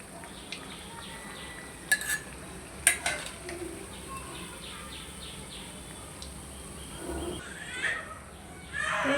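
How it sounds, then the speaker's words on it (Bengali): Fried onions are stirred and lifted out of hot oil, with a steady low sizzle under sharp scraping clicks of a utensil against the pan and a few louder knocks. "এই যে দেখুন আমি সবগুলো পেঁয়াজ উঠায় ফেলছি"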